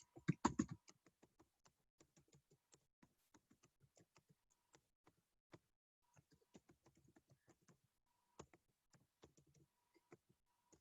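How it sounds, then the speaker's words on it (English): Computer keyboard typing, close and fairly quiet, in irregular clicks and short bursts of keystrokes, with a denser flurry at the start and no speech. "sound of this keyboard is a little harsh"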